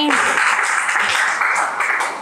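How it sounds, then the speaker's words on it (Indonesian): Classroom applause from students in an Indonesian informatics lesson, a steady wash of clapping lasting a couple of seconds, fairly loud and continuous with a faint voice underneath. "Beri tepuk tangan buat Nopi telah menyampaikan kesimpulan"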